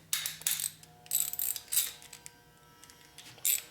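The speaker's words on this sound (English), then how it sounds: "you can hold it while you tighten the nut on this thing" A hand wrench ratchets while tightening a nut on a 2004 Harley-Davidson FLHT Twin Cam touring motorcycle, giving several short bursts of quick clicking separated by brief pauses, close and fairly quiet.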